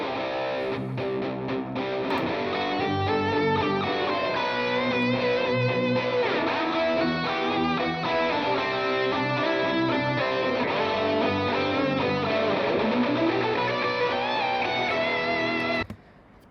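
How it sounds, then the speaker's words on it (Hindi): Heavy distorted electric guitar recorded live for a cinematic FL Studio production, with dense sustained chords and shifting melodic lines playing loudly and continuously before cutting off abruptly near the end, with no voices. "अब आते हैं इसके अंदर थोड़ा सा distortion guitar. I guess electric के साथ डिस्टॉर्शन भी यूज़ हुआ था"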